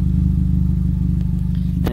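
A 2012 Acura TSX special edition with straight-piped 2.75-inch exhaust idles and rumbles with a deep, pulsing, steady drone, close and loud, with a faint rattle near the end.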